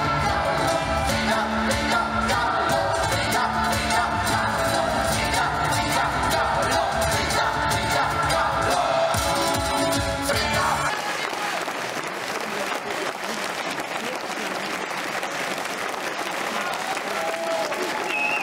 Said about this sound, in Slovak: Ich výkony odmenili diváci v takmer plnom amfiteátri zaslúženým potleskom.